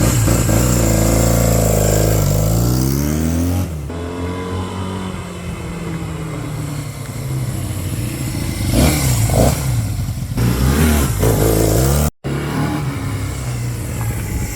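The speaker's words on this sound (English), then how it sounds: "Revs to the moon too, it revs good." A 1972 Honda SL175 motorcycle engine revs up and down in repeated swells, loud and close, with a rattling idle between throttle blips.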